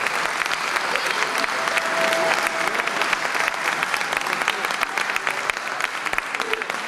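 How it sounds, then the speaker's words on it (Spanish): An audience at a film teaser presentation gives sustained, loud applause, a thick wash of clapping from many hands with some voices mixed in. "quiero repetirle ese aplauso al Guatón Salinas."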